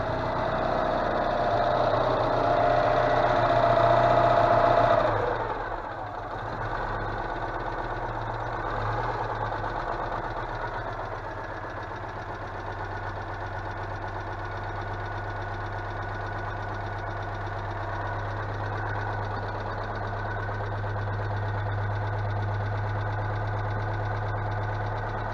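A Citroën 2CV's small air-cooled twin idles after restarting from a long standstill, smoking as if on choke, a steady close putter that dips briefly early on and then settles into an even, slightly uneven idle.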